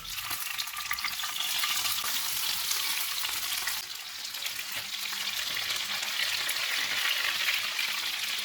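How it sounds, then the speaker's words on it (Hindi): Chicken pieces frying in three tablespoons of hot oil on a tawa over a low-to-medium flame, a loud, continuous close-up sizzle with crackling spatter that holds steady throughout. "ऑयल गर्म हो गया, चिकन के पीसेस रखेंगे।"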